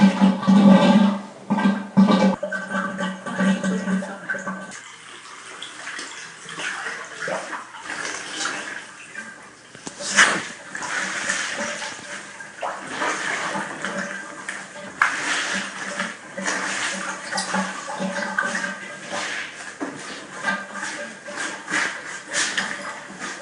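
Water drains from a hand-washing basin after hand washing, a running, gurgling flow with splashes and sloshing that rises and falls, heard close up while a person talks intermittently.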